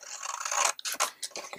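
Scissors snip through paper while a pop-up card is cut out, a run of close, crisp cutting and rasping strokes broken by a few short pauses.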